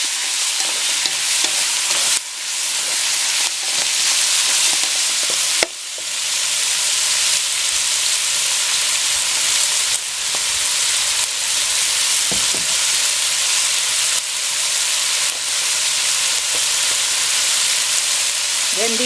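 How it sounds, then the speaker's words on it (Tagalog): String beans stir-fried in a pan for pancit bihon guisado, a steady close sizzle and frying hiss with occasional scrapes of stirring running throughout, no talk. "Haluin natin mabuti hanggang medyo maluto yung string beans before nating add yung cabbage."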